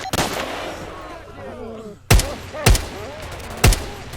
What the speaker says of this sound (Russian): А кто в меня стреляет?